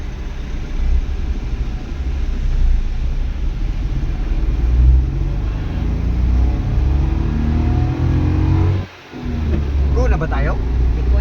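A motor vehicle engine revs and rumbles loudly during a road trip in Cavite, a dense continuous drone with rising and falling pitch sweeps and a brief dip near the end.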